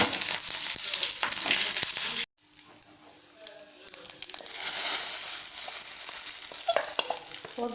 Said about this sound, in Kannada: ಒಗ್ಗರಣೆ ಪಾಡಿ ಕೂಡಲೇ ಮುಚ್ಚೋಡು